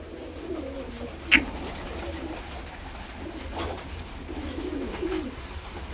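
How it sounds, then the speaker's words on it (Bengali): Pigeons being fed by hand give soft, low coos through the background, with one sharp brief flutter or call standing out near the start; no one speaks. "খাবার খেলো পায়রা?"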